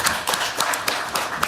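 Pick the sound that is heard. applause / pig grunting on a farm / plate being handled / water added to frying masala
applause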